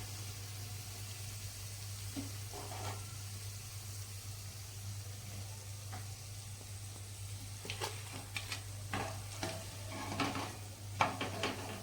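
Vegetable patties made from leftover rice frying in a pan over a gas stove, a faint steady sizzle under a low hum, then a run of light scrapes and clinks of a utensil against the pan near the end.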